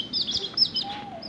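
A tiny pet bird indoors gives a few quick, thin, high chirps in a brief flurry, fairly close but soft, with no talking.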